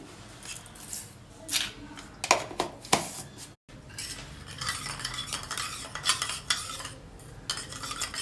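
A spoon stirs and mixes a dressing of sesame oil and sugar for a high-protein recipe, scraping and clinking against the bowl in repeated close strokes, with no talk.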